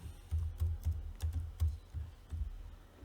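Computer keyboard typing while code is written, a quick run of close, soft key clicks in an uneven rhythm, about a dozen strokes with no voices.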